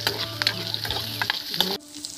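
Crushed garlic, ginger and green chili paste fries in a pan, a close, crackling sizzle with quick spoon clicks and stirring scrapes, cut short after about two seconds into a faint hiss.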